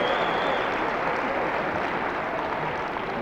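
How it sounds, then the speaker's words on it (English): Basketball fans of OBU rise and applaud a player who has just fouled out, in a steady, dense roar of clapping and crowd noise filling the gym. "OBU fans to their feet to applaud his effort"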